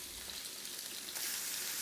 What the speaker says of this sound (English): Now I'm gonna throw my chicken in there. You guys hear that sizzle?